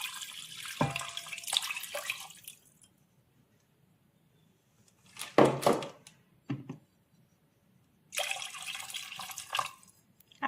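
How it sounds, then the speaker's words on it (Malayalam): Water is poured into a pot for rasam in three separate splashing bursts, each a few seconds long and separated by quiet gaps, close by and clear. "ആവശ്യത്തിന് വെള്ളം ഒഴിച്ച് കൊടുക്കാം."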